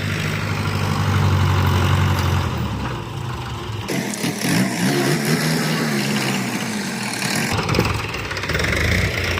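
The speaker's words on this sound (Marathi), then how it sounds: "ट्रॅक्टर तिकडूनच वळाला" Tractor ploughing a farm field, its engine droning steadily and loud throughout with shifting load and a change in pitch partway through, broad outdoor noise around it.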